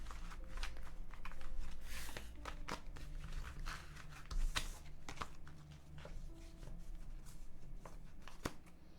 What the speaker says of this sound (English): I'm gonna give these a good shuffle actually after Tarantgosh's reading